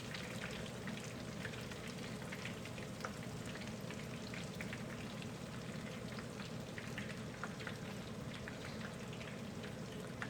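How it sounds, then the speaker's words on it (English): Coconut-coated shrimp fry in hot oil, producing a quiet, dense crackle and pop that runs steadily throughout without any speech. "you want to cook it for about 2 to 3 minutes on each side."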